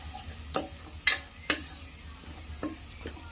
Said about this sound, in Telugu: తర్వాత పసుపు కొద్దిగా వేసుకోవాలి వేసుకొని ఇలా ఫ్రై చేసుకోవాలి